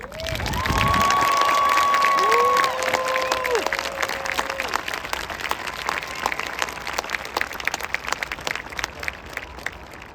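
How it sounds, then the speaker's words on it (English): A crowd applauds loudly with some cheering at a ceremony for new American soldiers, the clapping swelling at first then gradually thinning out over about ten seconds. "please join me in a round of applause for our newest American soldiers"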